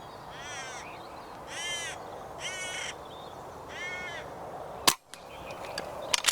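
A hooded crow caws four times in a steady series, clear against outdoor background noise, followed by a sharp air rifle shot and some rustling.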